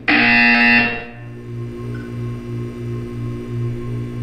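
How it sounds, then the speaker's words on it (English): A loud, harsh electronic buzzer in the video game Portal 2 blares for about a second, then gives way to a low, steadily pulsing hum. "You will hear a buzzer."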